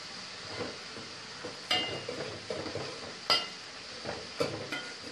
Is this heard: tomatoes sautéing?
yes